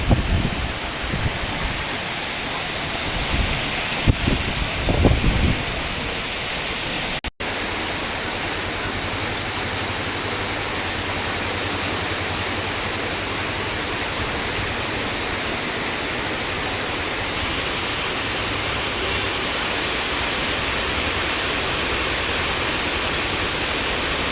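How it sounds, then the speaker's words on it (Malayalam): Dense, steady roar of heavy rain pouring without a break, broad and hissing, with a brief rustle near the start. "ഞാൻ അപ്പോൾ മഴ വീഡിയോ എടുത്തുകൊണ്ടിരുന്നത്"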